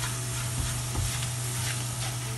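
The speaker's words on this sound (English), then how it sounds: "Just cook this masala on slow flame" Masala cooks on a slow flame for Rajasthani mirchi vada, giving a steady soft sizzle with occasional light stirring scrapes, close and continuous.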